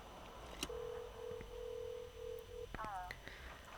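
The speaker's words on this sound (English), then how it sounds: "It's noisy, I can hear typewriters and telephones ringing." Telephone tones in a busy law office from a video game: a steady held tone, then a short warbling ring with a few clicks, over a constant noisy background.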